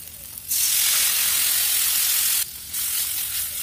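Egg curry gravy sizzling loudly in a hot pan as hot water is poured in, a bright steady hiss that jumps up suddenly, cuts out briefly, then resumes a little softer, with no voices.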